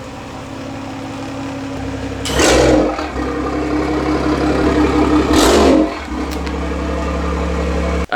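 A big-turbo BMW M340i idles in a garage, then blips its engine twice in short, loud revs before settling back to a steady idle, close-up and alone.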